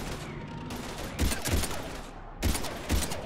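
Gunfire from the video game Mass Effect 3 on Xbox 360 in a combat scene against Husks, with dense bursts of shots and two heavy booming impacts around the middle and end over a constant busy battle backdrop.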